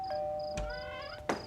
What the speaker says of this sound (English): there was still one more bell to ring